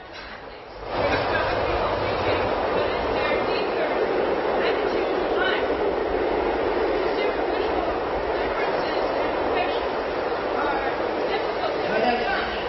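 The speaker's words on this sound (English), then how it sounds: "Well, can't you hear that train?" A train rumbles past outside a room where people are gathered, a continuous rolling noise that swells in after the first second and holds steady, with some faint chatter underneath.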